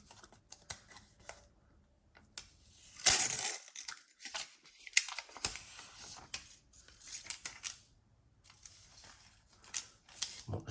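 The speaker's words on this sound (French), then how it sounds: "j'ai un peu foiré le déballage du plastique" Crinkling and tearing of the plastic wrap around a MagSafe battery pack for an iPhone 13 Pro Max, close and uneven, with a loud burst of rustling early on and scattered crackles after.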